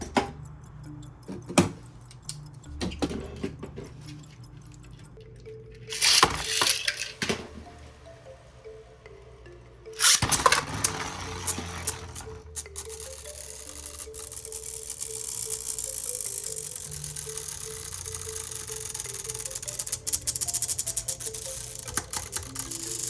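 Beyblade spinning tops, Lucifer against King Helios, clash with scattered sharp clicks and rattling bursts. A steady whirring grind then carries on as they spin against each other.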